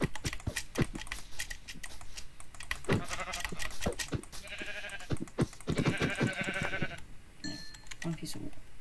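Minecraft Bedrock sheep bleat a few times amid clicky keyboard tapping and a person talking, the bleats short and mid-loud.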